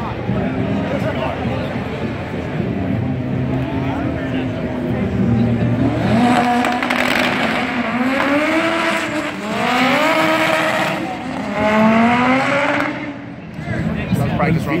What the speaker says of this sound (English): VTEC kicks in.